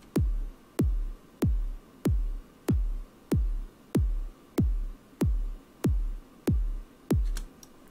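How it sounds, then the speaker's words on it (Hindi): Original kick drum sample played back in FL Studio: twelve evenly spaced, punchy booming kicks with a deep low-end tail, steady rhythm, loud and isolated with no talking. "मैं एक बार आपको ओरिजिनल किक सुनाता हूं।"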